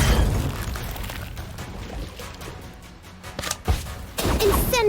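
Stupefy spell in the Harry Potter Magic Awakened video game, a rumbling magical blast with crackling bursts and a sharp impact near the end, loud and layered over game effects.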